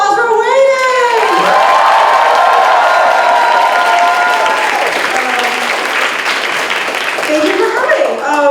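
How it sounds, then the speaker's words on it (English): Loud crowd applause and cheering at a student spring fashion show, dense clapping throughout with shouts and a high whoop sweeping over it, voices mixed in. "Let's give another round of applause for waiting!"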